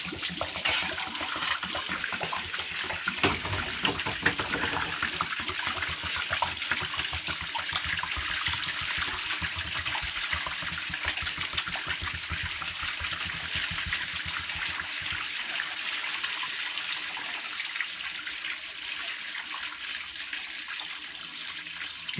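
Water draining and gushing out of a marine hot water system aboard a boat, a steady broadband rush that continues throughout with no talk.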